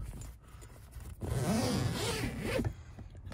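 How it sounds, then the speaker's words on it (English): A zipper is pulled open on a fabric cover over the engine access panel of a Honda Beat scooter, close and clear, with a long rasping drag in two strokes followed by a quieter pause. "So we're gonna undo the zipper."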